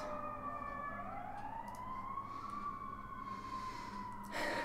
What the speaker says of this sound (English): Yeah, listen to those sirens.